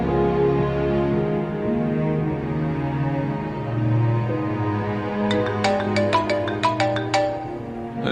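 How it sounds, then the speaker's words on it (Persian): A mobile phone ringtone plays a melodic tune, loud and steady, ending in a run of quick bright electronic notes, heard alone with no talking. "صدای گوشیش که از اینجا میاد."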